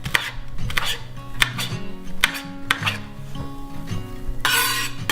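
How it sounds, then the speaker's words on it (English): Garlic cloves chopped with a knife on a board: a run of sharp, close knocks at an uneven, brisk pace, with light clinks of utensils between, no talk. "we're going to crush the garlic. And chop it"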